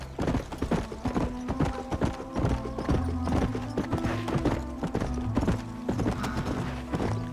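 Horse hooves clip-clop in Red Dead Redemption, a steady run of sharp knocks at a brisk walking pace, close and clear, with a low rumble and faint whinny in the background.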